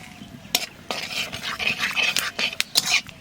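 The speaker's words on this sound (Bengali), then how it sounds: "তাহলে এবার দিয়ে দেবো লং দারচিনি এলাচ" Whole cloves, cinnamon and cardamom tossed into a hot pan for Bengali cooking, giving a run of sharp scraping and clinking stirring strokes with a light sizzle, close and moderately loud, with no talk.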